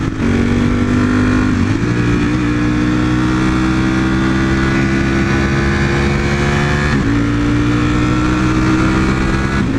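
A motorcycle engine runs steady and close, loud and droning with a low rumble, rising slightly in pitch in two brief revs.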